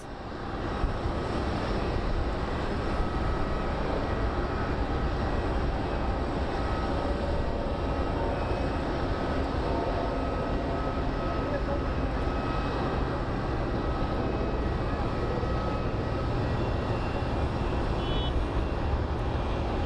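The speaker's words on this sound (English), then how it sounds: "So our United flight is coming in" United airliner approaching to land at Phoenix Sky Harbor International Airport: a steady, broad jet engine roar that holds loud and unbroken for the whole stretch, with no talking heard.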